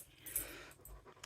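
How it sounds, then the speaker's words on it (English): A dog pants quietly nearby in a few soft, breathy puffs, with faint clicks around it. Nobody speaks. "we got another doggy coming"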